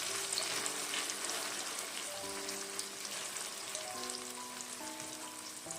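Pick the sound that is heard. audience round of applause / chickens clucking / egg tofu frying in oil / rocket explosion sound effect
egg tofu frying in oil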